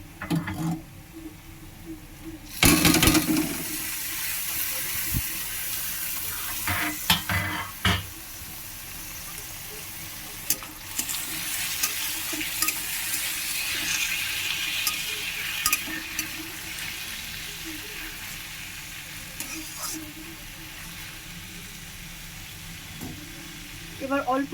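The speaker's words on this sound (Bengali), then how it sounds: "ভাজা হওয়ার পর আমি এর মধ্যে দিয়ে দেব আলুগুলো" Potatoes frying with lightly browned onions in a pan, a continuous close sizzle and hiss with clattering stirs and scrapes, occasional talk over it.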